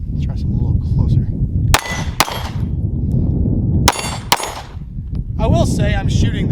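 Sig P320 pistol shots fire outdoors at steel targets: four sharp reports in two quick pairs, each followed by a ringing metallic clang, with faint talk near the end.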